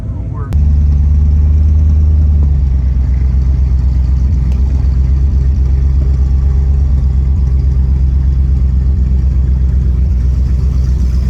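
A hot rod's engine rumbles steadily and loud at close range as it rolls out from the Atlanta Motor Speedway, a dense low drone holding for the whole stretch after a brief quieter start.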